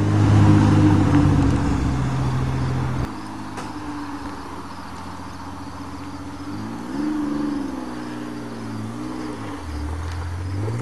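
A Pontiac Fiero V6 car is heard driving, its engine droning with rising and falling revs as it changes gear. The sound is fairly loud and steady throughout, with no talking.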